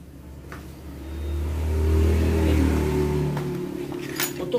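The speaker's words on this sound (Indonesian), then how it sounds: "Ini kan dinamo starter ya, kita starter ya." Electric starter motor cranking on a carburetor Yamaha Xeon scooter, a low whirring drone that swells, holds, then eases, close and alone with no talk.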